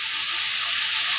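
Chicken biryani ingredients sizzle steadily in a pan as they are stirred, giving a loud, even, continuous hiss with no talking.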